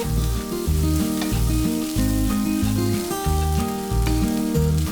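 Egg kothu parotta with chopped coriander being mixed and fried on a hot pan, a loud steady sizzle with rhythmic metal clanks and chopping taps throughout.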